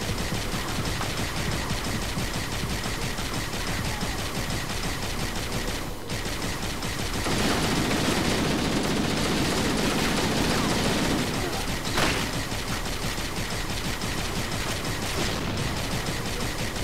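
Gunfire from a Halo CE match rattles continuously in dense, rapid bursts that fill the whole stretch, loud and close, with a thicker barrage swelling through the middle and only faint voices beneath.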